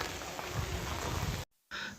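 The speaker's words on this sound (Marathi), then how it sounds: "किल्ल्यावरती आता पाऊस बऱ्यापैकी पडायला सुरुवात झाली" Steady rain falls at Naldurg fort, a large ground fort, as an even broadband hiss that fills the clip before cutting out abruptly near the end, then resuming briefly.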